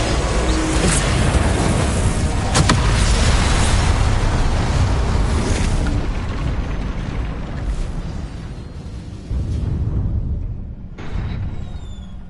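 Incendio fire spell cast in Hogwarts Legacy combat: a loud roaring, whooshing blast of flame with a sharp crack near the start, sustained rumbling that slowly fades, then a smaller burst before trailing off.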